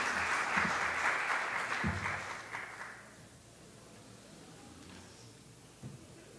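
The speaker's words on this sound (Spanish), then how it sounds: "Le damos un fuerte aplauso a don Ricardo Guillén Montero." An audience at a university gathering in Costa Rica gives a speaker a strong round of applause. The dense clapping fades out over about three seconds, leaving quiet room noise with a couple of soft thumps.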